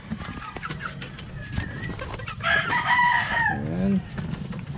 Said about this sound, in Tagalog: So yan, may mga manok dito.